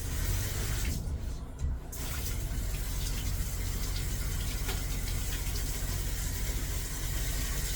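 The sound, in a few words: water running from tap to fill dog bathing tub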